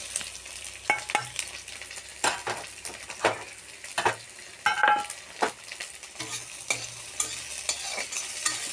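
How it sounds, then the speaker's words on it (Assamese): Onion and garlic frying together in hot oil in a wok, with loud bursts of sizzling and repeated scraping stirs of a utensil against the pan, plus the odd clink of metal, all close up and without talk. "পিঁয়াজ ৰচুন একেলগতে দি দিম।"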